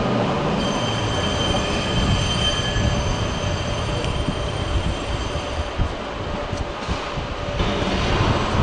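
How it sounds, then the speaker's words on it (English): A Talent diesel train moving through Köln Hauptbahnhof, with a loud steady rumble of wheels and engine, metallic squeals and a hissing airy wash throughout, close by and without talking. "Another diesel Talent 1."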